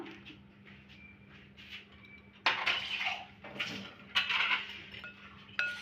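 A spoon scrapes and clinks against a bowl while rice flour, salt and baking soda are stirred together, starting with faint taps and then turning into louder, irregular metallic scraping, with no talk.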